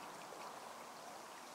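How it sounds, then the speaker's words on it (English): A faint, steady rush of fast-flowing river water on the River Ouse, an even hiss with no breaks and no voices. "I'm back at the fast flowing water, as you can see it."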